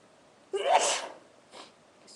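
A person lets out one loud, abrupt sneeze close to the microphone, followed by a softer short breath or sniff a moment later, with no talking.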